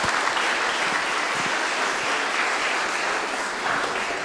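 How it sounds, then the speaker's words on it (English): Keynote audience at Kiwi PyCon XI applauding a speaker, a dense, steady wash of many clapping hands filling the room for the whole stretch without letup. "everyone give a giant round of applause to Laura Bell"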